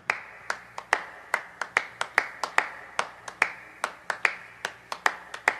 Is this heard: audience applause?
yes